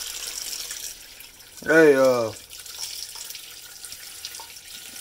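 Tap water runs steadily into a sink as smoked meat is washed under it, while a man calls out once over the flow.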